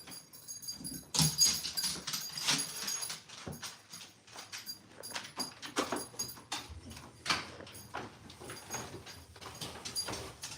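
A puppy named Bruce whimpers and whines indoors in short, thin cries scattered through the clip, mixed with faint rustling and knocking, fairly quiet and close.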